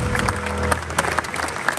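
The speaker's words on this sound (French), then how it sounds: "Maxence, tout le monde t'applaudit." A large crowd applauds at a Milwaukee tools convention in Barcelona, with loud, dense clapping and a low hall rumble filling the whole moment without pause.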